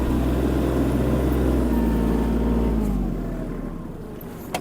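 Kubota KL-25 Japanese mini tractor engine droning steadily up close, then easing off and fading lower over the last seconds, with no voices.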